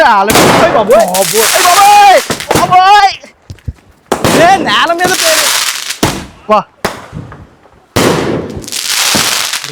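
Diwali firecrackers go off on the ground: several sharp, loud bangs with hissing bursts spaced a few seconds apart, while people talk and call out close by.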